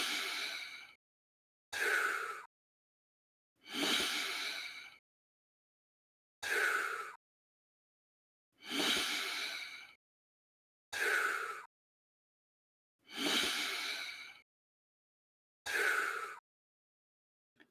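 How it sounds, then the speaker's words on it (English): Controlled rhythmic breathing during training, inhaling through the nose and exhaling through the mouth, heard as about eight close, even breaths spaced by short silences, with no talking over them. "you want to inhale through the nose and exhale through your mouth like this"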